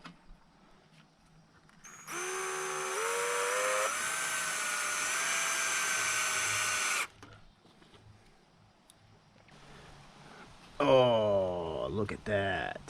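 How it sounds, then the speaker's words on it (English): A power drill drives decking screws into wood to mount a go-kart motor, whining loudly in one long burst with a pitch shift, then a shorter revving burst, with people talking around it. "I think we're going to try and screw the motor down right there."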